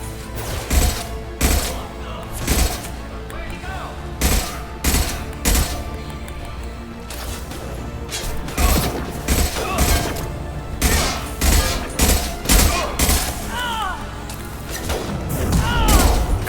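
Repeated gunfire in Mass Effect 2 combat, loud sharp shots and bursts in irregular clusters throughout, with occasional impacts and a brief voice beneath.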